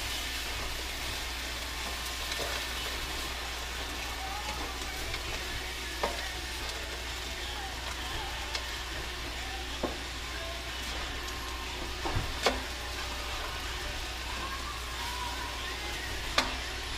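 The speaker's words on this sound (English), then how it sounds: "Start mixing it all together." Food stirred in a frying pan over steady sizzling, with occasional light scrapes and clinks of a utensil against the pan, no talking.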